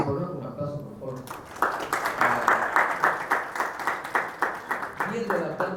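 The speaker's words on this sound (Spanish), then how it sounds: "Un aplauso, por favor." After a short spoken line, a lecture audience breaks into applause, a run of rhythmic, fairly close clapping that swells and then tapers as a voice returns near the end.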